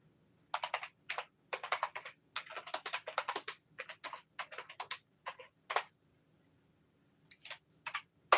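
Someone types on a computer keyboard in irregular bursts of close, crisp key clicks with short pauses between runs of keystrokes, in a quiet room with no talking.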